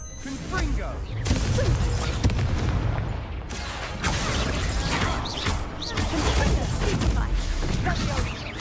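The Confringo fire spell goes off in the Hogwarts Legacy video game as a loud, dense stream of booming, crackling blasts over several seconds, with battle noise and a voice mixed in.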